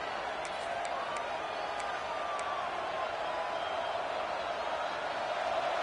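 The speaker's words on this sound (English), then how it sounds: "listen to this crowd coming through" A stadium crowd roars in a football video game, a steady loud wash of cheering and whooping that holds throughout with no break.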